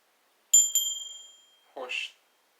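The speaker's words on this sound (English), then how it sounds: "my grandmother's bell" A small hand bell rings twice in quick succession, leaving a clear metallic tone that decays over about a second, followed by a brief muffled rustle, all in otherwise quiet surroundings.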